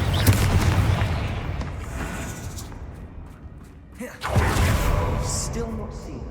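Confringo fire spell blasting in the Hogwarts Legacy game, a loud booming explosion with a sharp renewed burst near the end, over dense rumbling battle noise.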